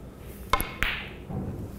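A snooker cue strikes the cue ball for a screw-back shot on the black, giving a sharp click followed by a second knock of ball contact, close and clear in a quiet room.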